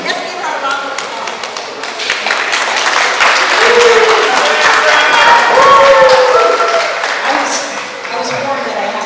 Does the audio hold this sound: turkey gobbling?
no